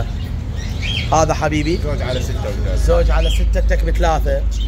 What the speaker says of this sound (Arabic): وهاي المحلات مالاتهم حمام طيور مغردة